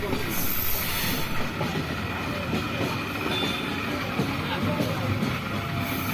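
Passenger train between Chuadanga and Kushtia rolls on with a constant loud interior rumble, hiss and faint wheel clatter throughout, heard from inside the carriage.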